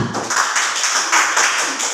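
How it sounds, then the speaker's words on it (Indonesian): A classroom group claps for group 2 after a presentation, a short burst of dense, close clapping lasting about two seconds. "Tepuk tangan dulu untuk kelompok 2"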